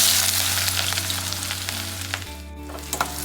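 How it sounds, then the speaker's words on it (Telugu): Onion and green chillies hit hot oil in a pan, making a loud, dense sizzle that holds steady, with scattered crackles and light stirring taps, with a low hum present throughout. "నూనె వేడయ్యాక ఆనియన్ పచ్చిమిర్చి వేసుకోవాలి."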